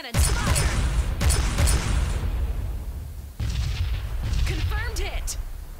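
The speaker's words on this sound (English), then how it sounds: "Hit the battleship! All cannons fire!" Cannons fire at a battleship in the space strategy game Sunrider, giving a string of loud booming blasts with rumbling tails. A voice talks over the barrage throughout.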